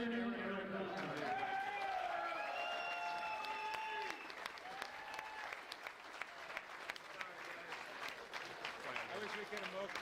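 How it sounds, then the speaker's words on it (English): A crowd at a Tornado catamaran sailing world series prize-giving claps for the second-place finishers. Steady, moderately distant applause mixed with cheers and voices, fading slightly after a few seconds. "And a round of applause for our second place finisher, Tony Smith and Eric Miller."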